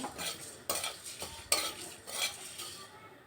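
A spatula scrapes and stirs coriander, fennel and cumin seeds repeatedly in a dry pan, each rasping stroke close and distinct, with a faint crackle underneath.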